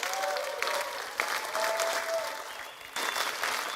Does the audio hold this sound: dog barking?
no